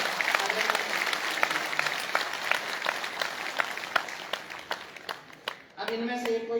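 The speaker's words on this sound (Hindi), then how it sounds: "आप जोरदार तालियां बजाकर।" Audience at a live poetry gathering in Rudrapur applauds with a dense, sustained round of clapping that fades out near the end, where a voice begins speaking.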